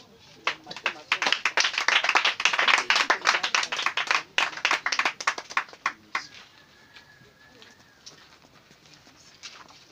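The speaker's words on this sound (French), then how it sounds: "On va acclamer pour recevoir l'homme de Dieu ce matin." A church congregation claps loudly and rhythmically in a temple to welcome a pastor, dense hand claps lasting several seconds before fading to a quiet room with faint voices.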